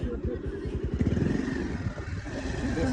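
A motorcycle ridden near a river bridge at Adamghat, Dhading, its mid-pitched engine putting past with a rapid throbbing pulse over outdoor ambience, moderately close, with faint voices.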